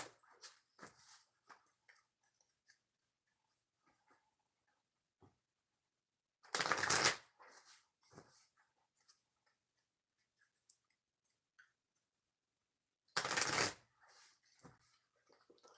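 Tarot oracle cards are shuffled in two brief, loud riffling bursts spaced several seconds apart, with faint rustles and handling noises between them in a quiet room.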